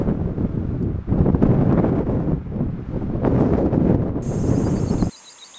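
Strong gusts buffet the microphone during a day hike in Arch Canyon, a loud continuous low roar surging and easing for about five seconds before cutting off abruptly.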